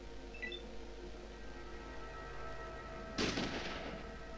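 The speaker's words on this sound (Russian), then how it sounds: "В упор из дробовика, который в разные стороны стреляет, скажем так, по большой области, промах." A single close shotgun blast from the Fallout 1 video game cracks out near the end, fired at point-blank range over a steady low electronic game hum.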